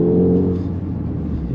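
A Honda Civic Type R FL5 with a Remark two-tip exhaust revs up close, a loud, raspy burst that settles into a rumbling, lower drone.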